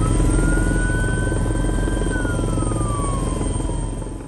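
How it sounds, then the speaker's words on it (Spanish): Firefighting helicopter flying over a wildfire near vineyards, a loud, steady rotor and engine drone with a whining tone that rises and then slowly falls as it passes overhead. "En helicópteros combaten las llamas con lo más importante, el agua."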